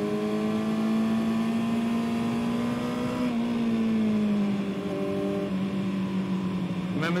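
Race car on the Cadwell Park circuit during warm-up laps, engine droning loud and steady with a strong harmonic whine that rises and eases as it shifts, close and continuous with no talk.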